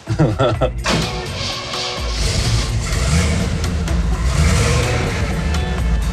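A Chevy 366 tall block industrial engine revs loudly up close, a few sharp blips at first, then a sustained heavy roar that builds and holds.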